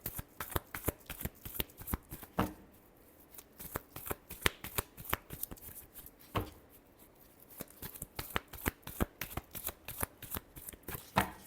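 Tarot cards riffle-shuffled close up in a long run of sharp, rapid flicks, with two short pauses breaking the rhythm; no one talks.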